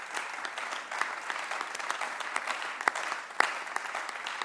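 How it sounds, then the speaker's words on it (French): An audience applauds a speaker at a church teaching event, a dense, steady patter of many hands clapping with a few sharper individual claps standing out, fairly distant and even. "donnons la parole sous vos applaudissements"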